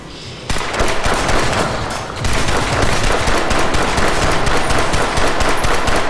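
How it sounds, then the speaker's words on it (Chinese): Rapid, continuous pistol gunfire in the shooter game Crysis 3, with shots fired back to back in a dense, loud stream and almost no gaps. "我啲手枪子弹好似咧当系无限发咁，系咁射"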